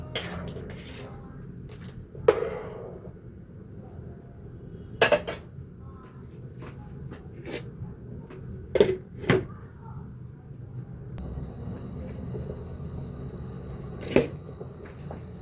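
Ginataang bilo-bilo with ube, sweet potato and saba banana is stirred in a cooking pot, a spoon scraping and clinking against the metal in a few sharp knocks over soft background hum.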